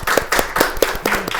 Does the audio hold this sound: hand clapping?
yes